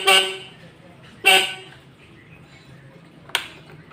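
Horn on a Suzuki RC100 motorcycle gives two short beeps close together, then a third brief toot a couple of seconds later, with faint background noise between.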